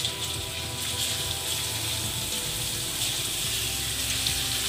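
Crushed garlic dropped into hot oil gives a steady, soft, continuous sizzle and bubbling hiss, with no talking.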